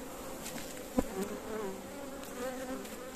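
Honeybees buzz steadily around a full brood frame lifted from a beehive, a close, continuous drone with one brief louder swell as a bee passes near, and no talking.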